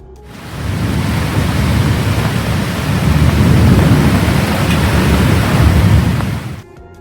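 Heavy rain pours in a dense, steady roar at a lake house during a storm, swelling in quickly and fading away at the end, with a low thunder-like rumble underneath.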